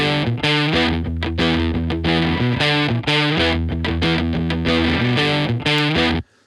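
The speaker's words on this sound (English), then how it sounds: "I'm using the bit crusher, and what I'm trying to do with this is recreate some of the noise floor and tape hiss" Electric guitar riff for a song's tone, played through an amp simulator and a bit crusher plugin that adds tape-style hiss, loud and distorted with chugging repeated notes for about six seconds, then cut off.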